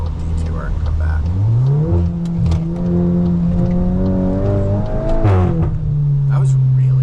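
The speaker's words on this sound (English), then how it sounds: "I downshifted, and it was really, really aggressive." A modified 2022 Volkswagen Golf R engine revs hard on an aggressive downshift, the steady drone rising in pitch in steps, loud and close from inside the car, with talking over it.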